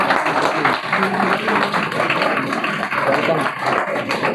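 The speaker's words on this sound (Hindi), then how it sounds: "जोरदार तालियां होनी चाहिए।" Loud, steady applause from a crowd for a student at a coaching-institute results celebration, dense continuous clapping filling the room for several seconds with chatter mixed in.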